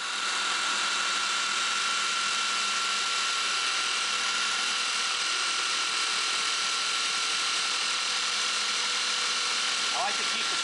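A steady, high mechanical whir of a Flex 3401 dual-action polisher with a microfiber cutting pad and compound, working a car hood at slow speed, runs continuously, with a constant tone and faint grinding texture underneath.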